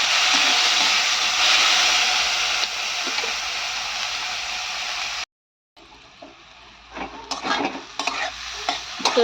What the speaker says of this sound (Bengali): তো ডালটাকে একটু ভেজে নিলাম।